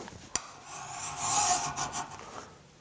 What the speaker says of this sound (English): Could actually use a more aggressive file.